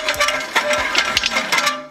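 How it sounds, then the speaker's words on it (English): Repeated metallic clunks and knocks, several per second, loud and close, from a wrecked BMW M3's suspension rattling over rough ground. "that's when you know you have something going on with your suspension"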